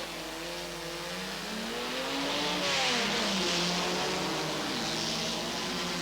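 A Jaguar E-Type and a Lotus Elan racing at a 1990 Grand Prix de l'Age d'Or, engines rising in pitch as they accelerate together, a sustained mid-distance roar that swells then eases.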